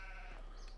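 A sheep in the Farming Simulator 15 video game gives one short, faint bleat.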